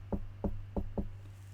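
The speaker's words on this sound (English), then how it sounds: "After a moment, I heard the knocking again." Four evenly spaced knocks on a door, heavy and close, a dull rap repeated at a steady pace over a low hum, with no voices.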